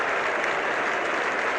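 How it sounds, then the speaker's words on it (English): A crowd at a cricket ground, the 1975 World Cup final between Australia and West Indies, applauds a batsman with dense, continuous clapping that stays steady and fairly loud throughout. "The Australians applauding, and the ground is rising to Kallicharran."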